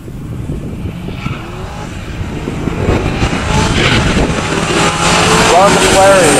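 A Buick GS455 muscle car at a pure stock drag race, its engine roar building steadily from a distance to a loud close pass, mixed with crowd and announcer voices over the noise.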